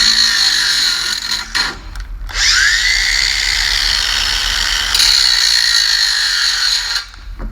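Tool scratching against stainless steel and throwing sparks, a loud sustained high-pitched grinding screech that starts abruptly, holds steadily for several seconds with a brief surge partway through, then cuts off near the end.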